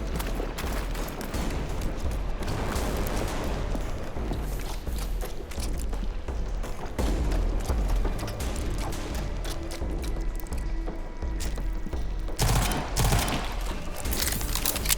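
Burst gunfire from a gun in a video game, rapid rattling volleys that carry on almost without pause through the whole stretch, dense and steady at a moderate level.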